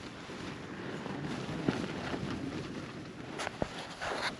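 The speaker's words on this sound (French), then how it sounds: "La tente bouge pas mal parce qu'il y a beaucoup de vent." Strong wind buffets the microphone with a rumbling roar, with occasional sharp flaps and rustles of a tent shaking, close by, while camping during an ascent of El Chachani in South America.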